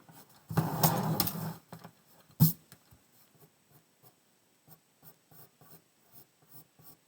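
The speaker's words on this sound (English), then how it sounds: "now I'm just going to sketch that in as best I can" A pencil scratches across paper while sketching a circle, with one long rasping stroke, a sharp tap, then a string of soft, short, evenly spaced strokes up close.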